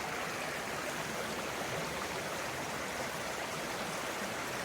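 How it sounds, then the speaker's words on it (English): Creek water rushing along a hiking trail near the Appalachian Trail, a steady broadband wash of flowing water, close and constant with no voices. "We're going to be hiking along a creek."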